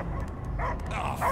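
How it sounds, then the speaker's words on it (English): A dog in the Guardians of the Galaxy video game barks and yips in short, close bursts over a low rumbling background. "I hear only barking."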